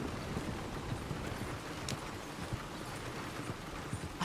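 Horse hooves clop in a steady rhythm in Red Dead Redemption 2 under a constant hiss of background noise, fairly faint and continuous.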